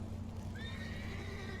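A horse whinnies in The Witcher 3 video game, a single rising neigh that holds and wavers over a low steady game-ambience hum, close and clear with no talking.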